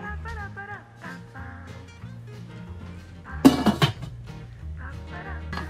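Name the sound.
covering the pan of chopsuey with a lid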